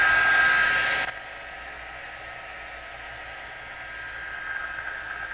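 A heat tool dries ink on a handmade card, its steady loud airy blowing dropping abruptly to a softer constant whir after about a second and running on alone with no talk.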